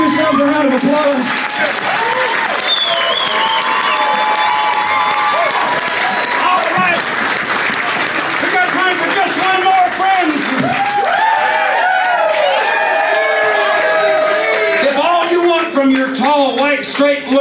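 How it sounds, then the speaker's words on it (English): Concert audience at Eddie's Attic in Decatur, Georgia, giving sustained loud applause after a folk song, thick continuous clapping with cheers and shouted voices running throughout. "Give yourself a round of applause."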